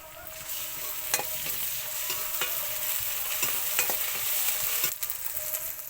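Ginger garlic paste frying in a pan with chopped onion and green chili, a steady soft sizzle with a few sharp clicks of stirring, close and continuous throughout.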